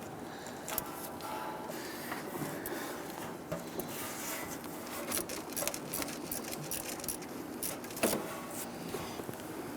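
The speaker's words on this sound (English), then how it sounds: "Now we're using an 8mm socket on this here with our 1/4" ratchet." A 1/4-inch ratchet with an 8mm socket loosens thermostat housing bolts on a 1999-2004 Jeep Grand Cherokee 4.7L V8, making a steady, close run of rapid ratcheting clicks over a noisy background, with no talking.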